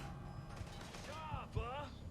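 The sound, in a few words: elevator door closing in Mafia 3 video game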